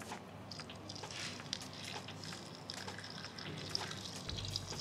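Water is poured into an Afghan kazan holding an oxtail roast with vegetables, a soft, faint trickle broken by small splashes and drips that ends in a brief low rumble.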